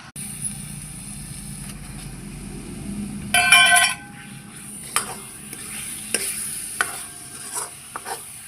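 Tomato puree for egg curry roasts with a low sizzle while a metal spoon scrapes and clinks against the pan in a burst of stirring, then in scattered taps.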